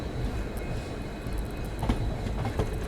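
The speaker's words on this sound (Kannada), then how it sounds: "ಚಿತ್ರದುರ್ಗದಿಂದ ಡಿಪಾರ್ಚರ್ ಆಗ್ತಾ ಇದ್ದೀವಿ" A diesel-hauled passenger train pulls out of Chitradurga station, heard from aboard as a continuous low rumble with a few sharp wheel clicks and rattles near the end.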